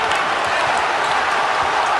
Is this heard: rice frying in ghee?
no